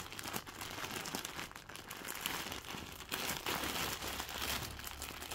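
Plastic packaging from a Temu parcel is handled and pulled open, a close, continuous crinkling and rustling with sharper crackles throughout and no talking.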